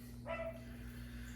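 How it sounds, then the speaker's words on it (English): A dog barks once faintly in the background of an indoor room, a single short yip set against a steady low hum. "apologize for the dog barking in the background."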